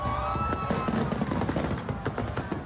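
A Fourth of July fireworks display crackles and pops in a dense, continuous rattle of small bursts, heard from a moderate distance.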